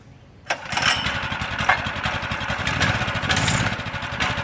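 A mini bike engine runs steadily on an off-road ride, starting abruptly after a brief quiet moment and then holding a loud, buzzing, rapidly pulsing drone with slight swells as the throttle shifts.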